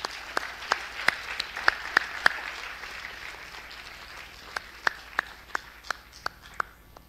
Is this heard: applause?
yes